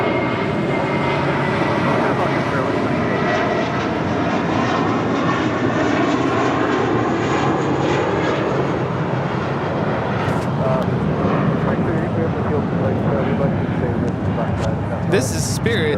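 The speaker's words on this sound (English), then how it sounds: "This is Spirit 2880 taking off to Newark on an A320." Spirit Airlines Airbus A320 taking off from runway 25 right at LAX, bound for Newark: a loud, sustained jet engine roar that fills the whole stretch, steady and close, with voices murmuring faintly beneath it.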